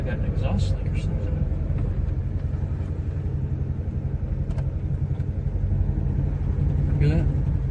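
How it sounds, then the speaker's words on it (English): A Toyota AE86 engine running with a possible exhaust leak, heard from inside the car as a steady low rumbling drone with a pulsing beat, while people talk intermittently. "Sounds like I got an exhaust leak or something."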